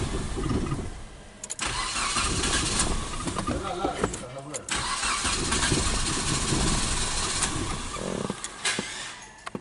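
A 2003–2006 Mitsubishi Lancer GDI with power loss and an idle fault cranks and starts, then runs at a steady, fairly loud idle. The engine sound carries on throughout, with brief dips, while someone talks over it.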